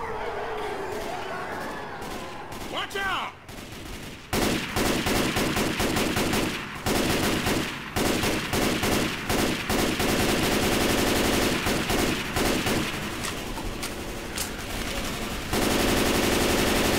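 Assault rifle fire in Left 4 Dead 2 on advanced difficulty, Crash Course map: long sustained automatic bursts, loud and close, with brief pauses and occasional slams between volleys.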